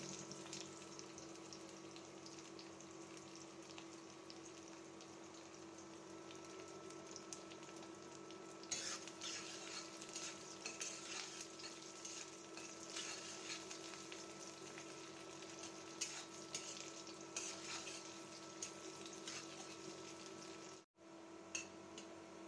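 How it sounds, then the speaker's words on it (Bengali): Onion, garlic and split dried chilies fry in mustard oil in an iron wok with a soft, steady sizzle and faint crackles, low and even throughout, with no talk. "পেঁয়াজ আর মরিচ অলমোস্ট ভাজা হয়ে গিয়েছে"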